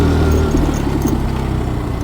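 A motorcycle engine labours on a gravel road during an offroad ride, a low, throbbing rumble pulsing steadily and loud up close, with no voices.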